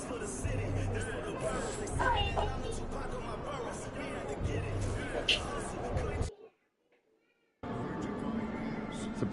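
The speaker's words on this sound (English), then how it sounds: "Surprisingly loud crowd tonight." Dense arena crowd roar and babble from an NBA 2K25 basketball game fill the scene at steady loudness, dropping to near silence briefly before the noisy crowd returns.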